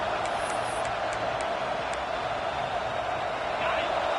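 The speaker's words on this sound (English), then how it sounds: "the crowd coming to life here, trying to help this defense down in the red zone" A stadium crowd in a college football video game, Ole Miss vs Notre Dame, with the defense down in the red zone, gives off a dense, steady roar that holds level throughout at moderate loudness.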